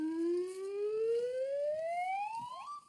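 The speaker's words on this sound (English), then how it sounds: "Fingers on buzzers, teams." A buzzer on a TV panel comedy news quiz sounds as a single loud electronic tone that sweeps steadily upward for nearly three seconds, heard alone without talk.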